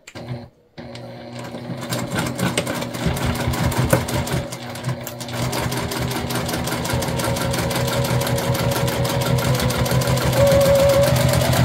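A sewing machine runs in a steady rapid chatter, stitching bulky foam dish drying mats into a tote bag at a 3/8 inch seam, starting after a brief pause and holding loud and close.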